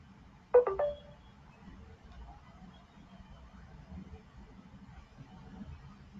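A mobile phone rings in a short burst of ringtone near the start, then stops, leaving a quiet room hum in an online API testing class.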